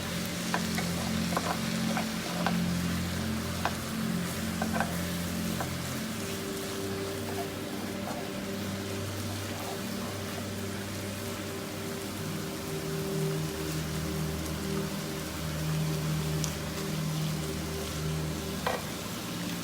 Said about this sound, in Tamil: எவ்வளோ குயிக்காக எடுக்க முடியுமோ அவ்வளோ குயிக்காக வதக்கிட்டு எடுத்துடணும்.